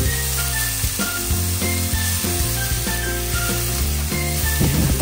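Pork belly bits sizzle and fry loudly and steadily in a pan, with faint scrapes and clinks of stirring throughout.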